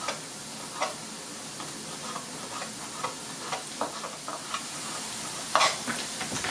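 Potatoes frying in a pan, a steady sizzle broken by regular light stirring ticks and one louder scrape late on.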